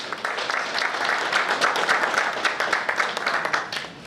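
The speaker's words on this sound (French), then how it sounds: "je demande vraiment un applaudissement" Audience applause during a ministerial speech at a training session, a dense wash of many hands clapping that holds steady for about four seconds with no talking.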